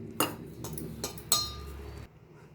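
A utensil clinks against a bowl several times in an uneven rhythm while mixing flour with water to a dosa-batter consistency, close and fairly quiet, with no voices.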